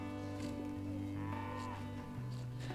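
Cattle lowing on a British pasture, a few overlapping drawn-out moos blending together, faint and somewhat distant.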